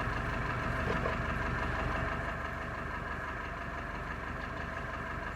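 Steady low idle of a truck engine in the RoadCraft video game, a constant close rumble holding evenly and easing slightly quieter over several seconds.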